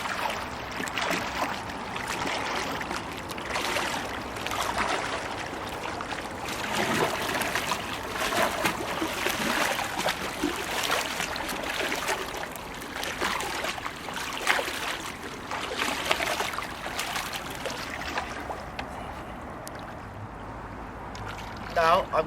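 Kayak paddle sculling strokes in water, soft irregular splashes and swishes that continue throughout at moderate distance, with a voice talking over parts.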